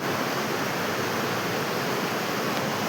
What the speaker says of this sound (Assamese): এই নদীখনৰ কাষতে আছোঁ